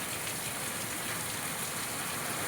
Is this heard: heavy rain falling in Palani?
yes